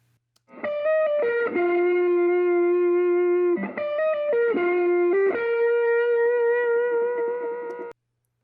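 Electric guitar reamped through a Silvertone amp with a warm tone, playing a melodic line of long sustained notes broken by short picked runs and bends, close and steady until it cuts off, with no voices.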